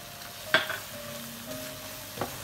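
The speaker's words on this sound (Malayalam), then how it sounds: "മസാലയൊക്കെ മൂത്ത് വരുന്നുണ്ട് മണം വരുന്നുണ്ട്" Masala for a grilled fish pickle fries quietly in a pan, with a soft low sizzle, a couple of faint scraping stirs and light clinks of a spoon against the pan.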